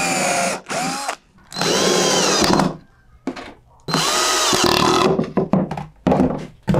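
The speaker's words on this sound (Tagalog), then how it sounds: "i-reinforce natin siya ng screw." A power drill drives screws into wood in repeated whirring bursts of a second or so each, separated by short pauses, loud and close.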